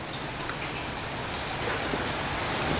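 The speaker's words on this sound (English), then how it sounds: "It's raining." Rain falling outdoors during a wet day, a dense, steady patter of drops on surfaces, even and continuous with no voices over it.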